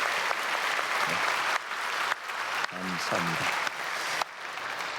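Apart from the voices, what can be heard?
congregation applauding to welcome a guest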